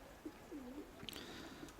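A pigeon coos softly at a loft, a couple of low rolling coos with a faint chirp and breezy background, fairly distant and quiet.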